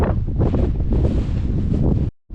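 Strong wind buffets a microphone on the summit of Mount Pelée, a loud, continuous rumbling roar with gusty swells that cuts out abruptly near the end.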